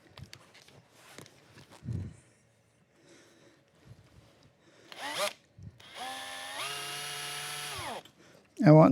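A power drill boring a hole in metal in a workshop, its motor whining up to a steady pitch for about two seconds before spinning down, preceded by quieter handling noises and clanks.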